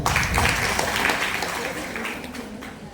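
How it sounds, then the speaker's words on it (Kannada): A crowd claps steadily at a welcome during a formal function with chief guests in Davangere, India, a dense patter of applause that slowly fades over a few seconds. "ನಿಮ್ಮ ಚಪ್ಪಾಳೆಯ ಮೂಲಕ"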